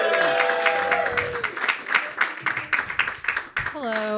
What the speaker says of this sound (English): Please clap it up for my lovely fiance, Irina Chelidze, everybody.